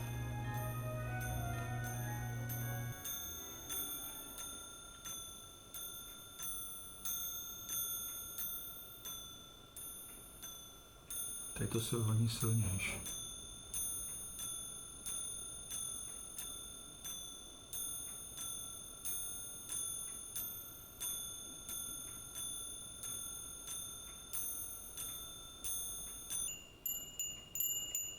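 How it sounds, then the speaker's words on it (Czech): Small brass or bronze angel chime bells on a spinning ornament ring in a steady, repeating sequence of bright, sustained metallic tones, with a brief louder rattle partway through and a voice speaking once. "Tak takhle nám zvoní stříbrné andělské zvonění."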